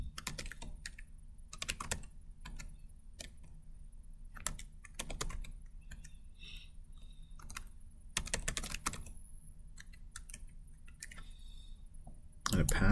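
Keys on a computer keyboard are typed in quick, close bursts with short pauses between them, as first name, last name, username and password are entered into a sign-up form, and a soft voice can be heard at times.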